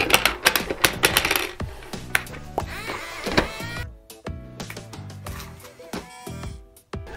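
Plastic electronic shooting target mechanism running after being switched on, irregular mechanical clicking, whirring and clattering close by, with a brief pause partway through and no voice over it.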